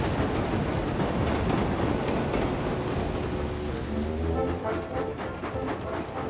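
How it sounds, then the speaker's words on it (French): Steady rain falls continuously in a cartoon scene at Chicalor, a dense hiss throughout with some low rumbling underneath. The tone shifts partway through, with a faint tonal hum and musical texture. "Cela fait plusieurs jours qu'il pleut sans discontinuer sur Chicalor"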